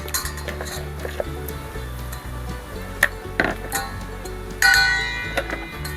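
Pork ribs tossed by hand in a bowl with a milk-based marinade for grilled ribs, giving soft wet squelches with scattered bowl clinks and scrapes, close and moderately loud, with a sharper clatter near the end.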